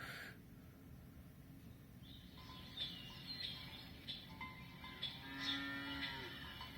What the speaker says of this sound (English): Wake up to cows.